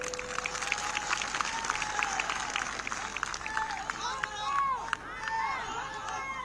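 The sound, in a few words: crowd clapping at a political rally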